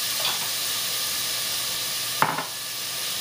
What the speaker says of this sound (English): you just want to cook your onions without browning them